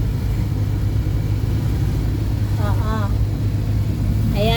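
Road traffic heard from a car driving home in the evening rush, a constant low engine rumble and road hum throughout, with brief voice-like tones and faint talk over it near the end.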